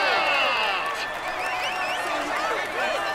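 A roadside crowd at the Tour de France cheers and claps for Wout van Aert in the green jersey, a loud, continuous roar with whistles and shouting voices layered over it.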